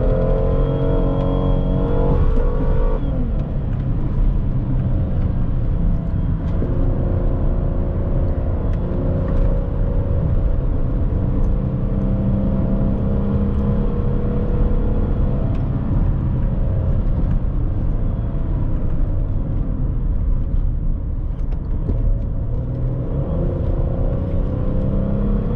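A Hyundai Azera V6 (245 hp, about 100,000 km) drives and accelerates in mixed city and highway driving, with a loud, steady engine rumble and road noise from inside the cabin and no speech.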